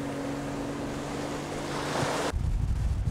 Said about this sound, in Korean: 바다를 가르며 달리는 모터보트